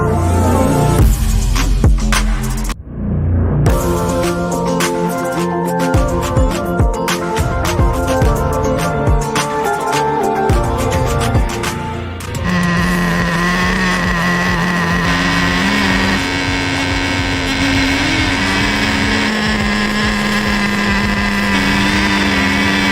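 A Traxxas Nitro Rustler with a 3.3 nitro engine running rich gives off a loud, buzzing, high-revving drone. It cuts out briefly near the start, then settles into a steadier, shifting pitch in the second half, with no talk over it.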